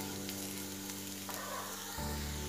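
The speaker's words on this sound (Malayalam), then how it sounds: "ഈ മസാലപ്പൊടിയുടെ പച്ചമണം മാറണ വരെ ഒന്ന് വഴറ്റി കൊടുക്കാം" Masala powder sizzles and fries in a pan while being sautéed for a mutton roast, a close, dense, continuous crackle with faint stirring and no talk.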